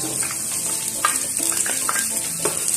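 Chopped onions frying and stirred in a pan with a little oil for an eggplant bistek, a steady close sizzle broken by scraping stirs of the spatula.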